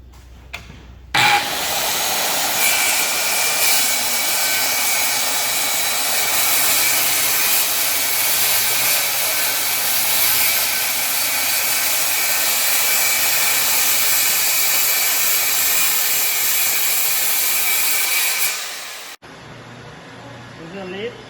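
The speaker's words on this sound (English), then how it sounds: "I am using the circle saw to cross cut this plywood" A circular saw cross cutting plywood starts abruptly and runs as a loud, steady, high-pitched whine and buzz for about eighteen seconds before winding down, with a brief quieter stretch before and after.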